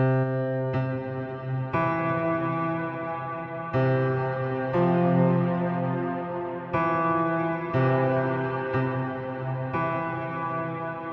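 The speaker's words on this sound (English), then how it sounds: "what you're hearing now is the direct sound from Melody Bud" Synth melody played from the Melody Bud iOS app, a run of distinct notes changing every second or so with rich, buzzy harmonics and effects, steady and fairly loud with no voice.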